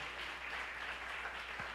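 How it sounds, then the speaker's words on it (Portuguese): A church congregation applauds during a service, a short even burst of crowd clapping heard at moderate distance. "Vamos aplaudir a Jesus pela vida deles."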